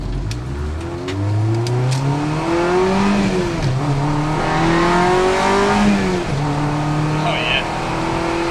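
A Honda car with a manual clutch accelerates through several gears, the engine note climbing and dropping with each shift, loud and close from inside or near the car over about eight seconds.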